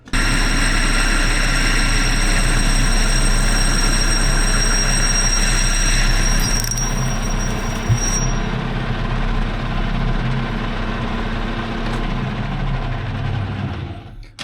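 A Clausing Colchester 13x36 lathe runs a parting cut with a steady, loud mechanical drone and a faint high whine, keeping a constant level throughout before it winds down at the very end.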